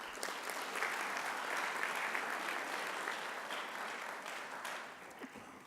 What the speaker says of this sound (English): Let's give a great applause to her.